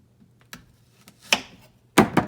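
A knife cuts a piece off short ribs on a scratched, 50-year-old counter: scattered sharp knocks against the surface, ending with two louder, closely spaced thunks.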